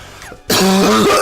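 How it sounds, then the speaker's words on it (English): A single short dry cough followed by a brief throat-clearing rasp, close and loud, alone without talk. "Damn, I just have this dry cough today"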